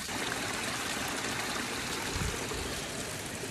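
Creek water rushes and splashes under a small waterfall where a bait pump clears out a pool, giving a steady, dense wash of sound with a brief low thump midway.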